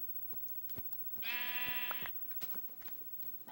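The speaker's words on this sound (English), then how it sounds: "Come here, sheep friend." A single sheep bleats once in Minecraft, a clear wavering call lasting under a second, amid quiet keyboard tapping and clicks.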